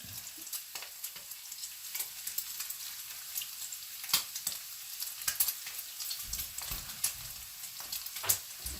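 Bacon sizzling and crackling in a frying pan, a steady close hiss with frequent sharp pops and spits, heard alone without talk.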